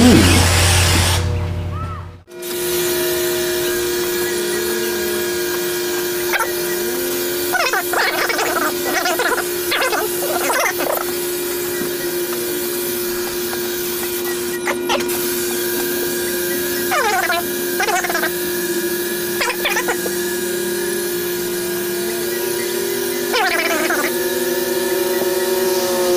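Spray adhesive hisses from an aerosol can onto the headliner of a Jeep XJ, a steady close spray interrupted by short pauses, with people talking and reacting over it.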